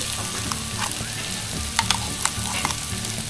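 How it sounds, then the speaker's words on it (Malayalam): Masala paste fries with sautéed tomatoes in a pan for a chickpea curry, giving a continuous moderate sizzle with occasional light taps and scrapes of stirring. "ഈ സമയത്താണ് നമുക്ക് ഇതിൽ പേസ്റ്റ് ഇടേണ്ടത് ഞാൻ ആ പേസ്റ്റ് അങ്ങ് ഇടുവാണ്"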